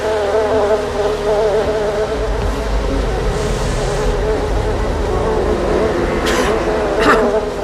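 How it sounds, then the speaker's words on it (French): A dense swarm of killer bees drones loudly and steadily throughout, close and continuous with no gaps. "je veux plus jamais être piquée par les abeilles"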